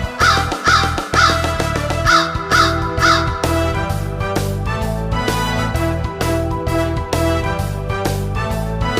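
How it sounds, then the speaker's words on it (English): A big black crow caws in loud, harsh, quick bursts, with further calls repeating against a steady musical backdrop. "Big black crow, you're a noisy bird."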